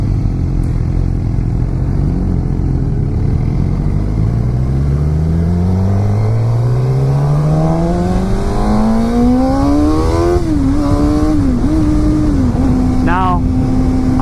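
A 2016 Suzuki GSX-R600 sport bike engine revs loudly and up close. It rises in a long climb, then blips the throttle in quick bursts and idles between them, with a steady roar throughout.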